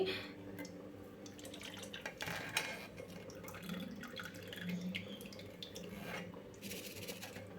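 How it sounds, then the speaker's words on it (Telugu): Jaggery water is poured off while making coconut milk payasam, giving a soft, quiet trickle and splash of liquid with a few small clinks from the vessel in a kitchen. "బెల్లం వాటర్ మొత్తాన్ని అయితే వంపేసుకోవాలండి"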